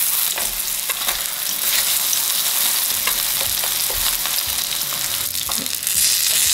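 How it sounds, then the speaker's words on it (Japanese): Eggplant fries in a pan over medium heat until golden, giving a constant close sizzle with scattered crackles and pops throughout. "きつね色になってきたら、ひっくり返して裏面も焼いていきます。"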